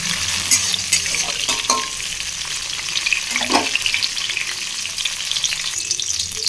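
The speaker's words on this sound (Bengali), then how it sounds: "এই কাজু আর কিশমিশগুলো আমি দিয়ে দেবো। আর এগুলোকে একটু লাল লাল করে ভেজে নেব।" Cashews and raisins frying in a little hot white oil in a pan, a steady close sizzle with a few utensil scrapes and stirs over it, continuous throughout.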